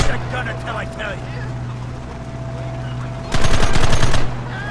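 Machine gun fire in Red Dead Redemption, a loud rapid burst of rattling shots lasting about a second near the end, over steady engine hum and game ambience, with a voice speaking earlier.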